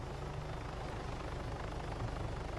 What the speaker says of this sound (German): Oh, dieser Heli, ne?